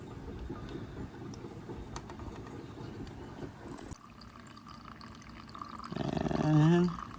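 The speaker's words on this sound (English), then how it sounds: "So I'm gonna go ahead and turn on the water." Water running through a hose into the freshwater holding tank of a 1990 Roadtrek Versatile 190 van, a steady low wash that shifts midway, then a louder gurgling fill as it nears the top.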